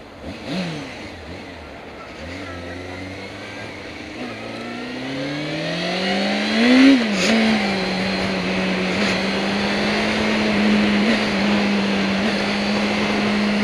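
A 2006–2011 Honda Hornet motorcycle engine revs up and down loudly and close, rising to a high climb around the middle and then holding a steady, droning pitch, with no talking over it.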